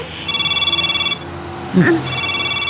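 A cellphone rings with a repeating electronic ringtone in an Ilocano-language drama scene, the tone cutting off briefly as a short voice or clatter intrudes, then resuming steadily at moderate level.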